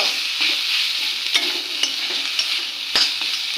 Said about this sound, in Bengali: শাকটা প্রায় ভাজা হয়ে যাচ্ছে